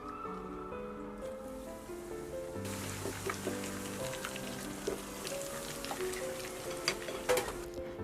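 Smoking-hot oil poured over chili flakes sizzles and crackles steadily in a home kitchen, a soft hiss with scattered pops that starts abruptly and runs continuously, with faint background tones.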